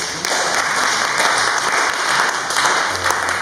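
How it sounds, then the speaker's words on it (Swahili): A church congregation claps together in sustained, steady applause, dense and even throughout the short burst, with no talk over it. "Wagia Bwana Yesu makofi mazuri."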